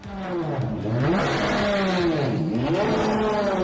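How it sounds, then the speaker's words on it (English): Sports car engine revving hard, its pitch climbing, dipping and climbing again in a loud, close roar with a sharp rasp, no talk. "completely ignoring the engine revving behind him"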